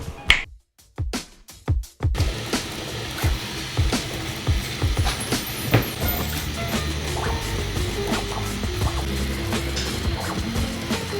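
A 3D printer runs a test print of a part for a rotating watch stand. Quiet at first, then busy mechanical clicking, ticking and whirring carries on steadily, close by.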